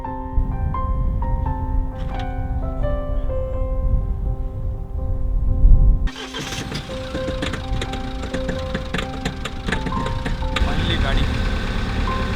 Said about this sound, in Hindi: गाड़ी स्टार्ट हो गई।